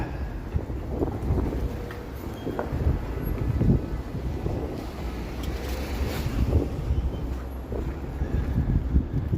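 Strong freezing wind gusts buffet a microphone outdoors in Toronto on a -20°C day, a loud continuous rumbling roar that swells and eases without a break.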